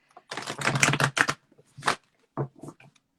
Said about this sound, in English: as I'm trying to shuffle, it's like my deck was so rigid and stuck